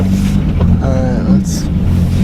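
Misfiring engine of a race vehicle with a badly worn clutch, giving a steady, close, rough low rumble with an uneven edge, mixed with wind noise across the microphone.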